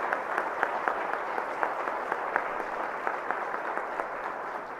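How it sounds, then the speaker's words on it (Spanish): Audience applause at a regional cardiology meeting, a steady wash of many hands clapping at moderate distance that holds evenly throughout with no break. "Quiero pedirles un aplauso,"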